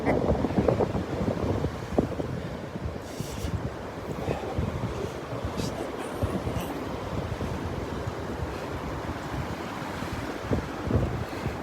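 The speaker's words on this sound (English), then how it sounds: "It's just that darn wind." Steady wind gusts buffet the microphone on a cold Delnor-Wiggins beach, with surf washing in beneath, a continuous loud roar holding for the whole stretch with no voices.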